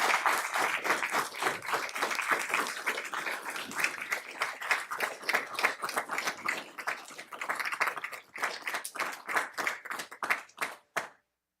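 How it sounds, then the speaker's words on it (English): Steady applause from people in the room for scouts at a township council meeting, dense and continuous clapping for about eight seconds that thins into a few scattered claps before stopping. "Let's give these people a big round of applause."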